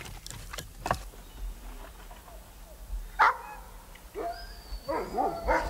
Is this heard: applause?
no